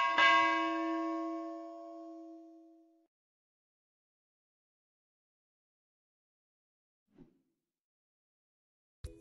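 A single bright bell chime used as a notification sound effect rings out and fades over about three seconds, followed by silence and a couple of faint clicks.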